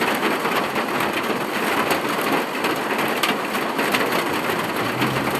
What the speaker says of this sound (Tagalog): Nya nag-ulan na diri